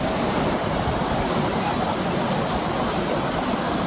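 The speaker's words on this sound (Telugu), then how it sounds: "ఇంకా ప్రవాహం ఉధృతంగా నడుస్తుంది" Loud, steady rushing of floodwater across a national highway, a dense broadband roar with no breaks, heard up close with no voices.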